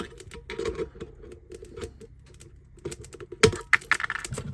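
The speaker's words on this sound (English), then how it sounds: "let's just snip that edge off" Snipping an edge off a scratch-built model water tower for a garden railway: rapid small clicks and handling noises, then one sharp, close snip followed by more light clicking.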